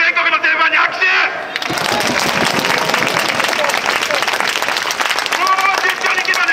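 Baseball fans in the visitors' cheering section at Sapporo Dome applaud after a Saitama Seibu Lions opening-day win. Dense, loud clapping swells across the crowd after a brief opening burst of noise and continues steadily to the end.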